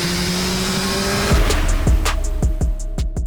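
An 800 hp rear-wheel-drive Ferrari and a 600 hp all-wheel-drive Subaru roll race. Close, loud engine drone builds into sharp revving, with rapid upshifts one after another as the cars accelerate hard.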